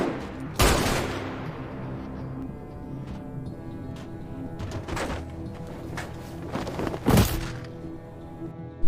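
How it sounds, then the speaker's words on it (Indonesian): Gunfire in a Korean drama scene: a sharp close shot early on, then a second loud report near the end, with softer thuds and clatter between over a low droning background. "Oh Ye-jin akhirnya melepaskan tembakan ke Do Gang-jae karena ia mengancam akan mengungkap identitas Oh Ye-jin."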